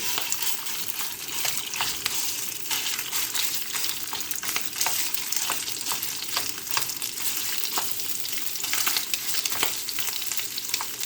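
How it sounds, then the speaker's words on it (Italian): Crumbled sausage fries in a pan for pumpkin pasta, a dense continuous sizzle broken by regular scraping pokes of a spatula pressing and breaking the meat, close and steady with no talking. "La schiaccio con la paletta facendola sgranare e la lascio cucinare."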